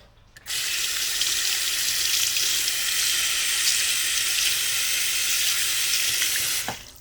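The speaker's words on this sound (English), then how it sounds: "Let's wash our hands." Water gushes from a kitchen tap for hand washing, a steady close hiss that starts abruptly, runs unbroken for about six seconds, then cuts off with a small knock.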